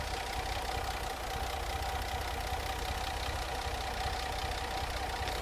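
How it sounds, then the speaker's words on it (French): An Alfa Romeo 2600 Touring engine idles steadily at close range, a smooth even purr with a faint ticking rhythm, no voices over it. "Vous avez vu le ronron de ce moteur?"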